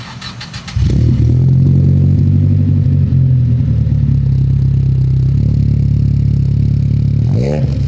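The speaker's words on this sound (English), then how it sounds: "just getting a quick sound check here on the S15" Nissan S15 Silvia with a Nismo six-speed gearbox starts up and settles into a loud, steady, rumbling idle heard up close, with a brief blip of revs near the end.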